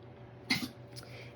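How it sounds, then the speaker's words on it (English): A dog coughs once nearby, a brief harsh hack followed by a softer second catch, quiet and without speech. "my dog is coughing down there"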